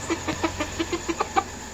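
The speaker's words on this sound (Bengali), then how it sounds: "আমাদের মুরগির এটি হলো কথা" Aseel fighter chickens clucking close by, a run of about ten short rhythmic clucks rising slightly toward the end, loud and clear with no talking.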